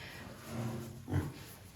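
A few soft, low pig grunts from young pigs of a good breeding line kept on a farm, faint and close, with one stronger grunt near the end.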